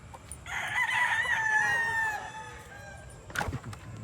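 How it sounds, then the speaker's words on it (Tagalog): A rooster crows clearly in one long call, followed by a sharper burst of fowl noise, over a low outdoor background hum. "Yan, mga manok na dito."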